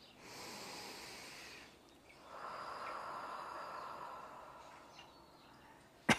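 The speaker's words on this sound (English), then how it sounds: "Let's take a couple deep breaths together." Slow, deep breathing close up, one long airy inhale and then a longer exhale, soft and breathy, with a sharp brief click right at the end.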